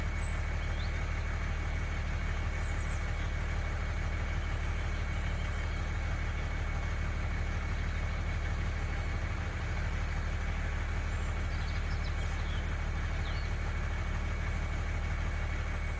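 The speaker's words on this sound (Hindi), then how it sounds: "हमारा ट्रैक्टर भी आराम से गुजरेगा" A small homemade mini tractor engine runs steadily at a constant idle throughout, a low, even rumble with no breaks.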